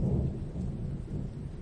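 Low rumbling thunder as a storm effect in a Spanish audiobook of Lovecraft's story, a continuous deep roll with a hiss of rain, steady and fairly loud throughout.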